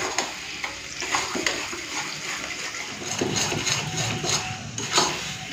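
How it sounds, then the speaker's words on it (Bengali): Ground bean paste frying and being stirred in a pan, a moist bubbling sizzle broken by repeated scraping strokes of a spatula, fairly loud and close throughout. "এরপরে চলুন শিম বাটাটাকে ভেজে নিই ভালো করে।"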